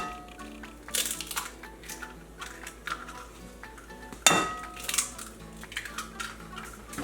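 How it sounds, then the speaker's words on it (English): Two eggs cracked into pancake mix in a bowl for homemade funnel cake batter, giving two sharp, close shell cracks with glassy clinks amid soft kitchen handling noise. "Putting in my 2 eggs."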